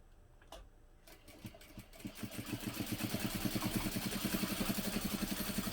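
A sewing machine top-stitches a fabric clutch, starting with a few slow stitches before settling into a steady, rapid mechanical rhythm, close and fairly loud, with no talking.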